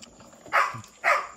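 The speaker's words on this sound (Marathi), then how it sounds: "आईला कुत्रा लय भुकायला वा" Two barks from a dog at a farmyard where a bull is being fetched, each short and mid-distance, spaced about half a second apart over a quiet background.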